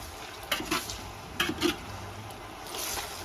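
A spoon stirs semolina into milk heating in a pot, a few soft scraping strokes spaced over a few seconds, quiet and close, with faint background hiss.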